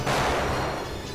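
A single loud gunshot blast with a broad, ringing noisy tail, fired in a TV crime drama scene, with no talk.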